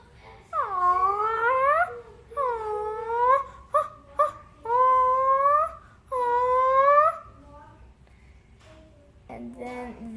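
A child imitates a toucan with a series of whining, croaking calls, four drawn-out cries with short clicky bursts between, then a brief low voice at the end.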